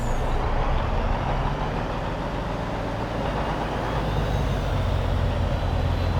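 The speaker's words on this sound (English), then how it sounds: "A different engine sound again." A big, powerful truck engine in Farming Simulator 22 drones loud and steady throughout, a deep continuous rumble with no talk.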